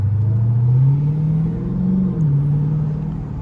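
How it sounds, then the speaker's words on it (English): Heard from inside the cabin in traffic, a Dodge Hellcat's exhaust gives off a steady, deep low rumble that wavers gently in pitch as the engine idles and creeps, loud and close, with no voices. "I can hear a little more exhaust off the grumble"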